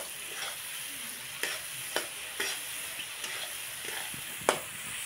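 Masala cooking in oil for a gobhi aloo matar sabzi, a soft continuous sizzle broken by several sharp spoon strokes and taps against the pan, with no talking.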